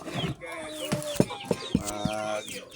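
Chickens cluck and call close by, several short sharp clucks in an irregular sequence mixed with drawn-out vocal notes.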